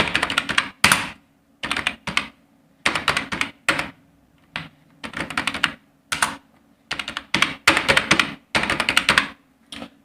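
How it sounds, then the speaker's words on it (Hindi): Computer keyboard typing while entering a date in a Microsoft Word tutorial: bursts of quick, close key clicks in clusters separated by short pauses, steady and fairly loud, with no voices. "आप डेट डाल दीजिए अपने कीबोर्ड से"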